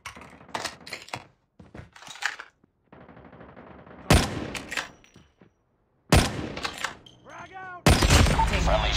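Gunfire from the Call of Duty Mobile video game: several loud, sharp bursts and single shots cut in abruptly between quieter stretches, with spoken game callouts and effects mixed in.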